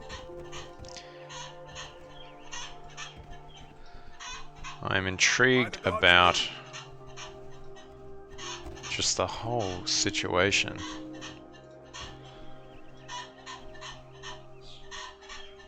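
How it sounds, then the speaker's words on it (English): Chickens on a farm clucking and squawking in the background, with two louder bursts of agitated calls in the middle, while someone talks over them. "you can probably hear my chickens going off in the background"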